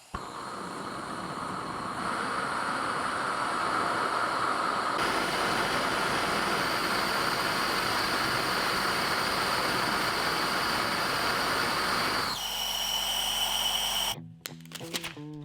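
A propane-fuelled venturi rocket engine test firing roars as a loud, steady broadband blast for about twelve seconds, shifts to a thinner hiss, then cuts off abruptly near the end.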